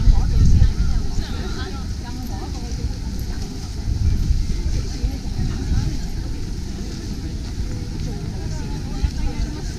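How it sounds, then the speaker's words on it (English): Wind buffets the microphone in low rumbling gusts in Japan, strongest at the start and around the middle, with faint background noise throughout. "It's very windy."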